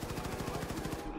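Rapid automatic gunfire from a gun in Wolfenstein 2 rattles out in a fast, steady burst of evenly spaced shots, loud and close, with no talking over it.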